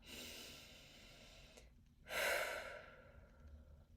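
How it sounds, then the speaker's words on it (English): A slow, deep breath in and out during a guided energy-clearing meditation, first a long soft inhale, then a brief pause and a louder, airy exhale, close and alone with no talking. "Deep inhale, exhale."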